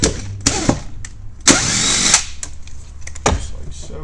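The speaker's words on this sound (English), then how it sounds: "the drill bit that we're using is a weird size. It's a 31/64." A power drill with a 31/64 drill bit bores a hole during a Can-Am Defender turbo install, giving several short bursts of whirring that start and stop in quick succession, fairly close and loud.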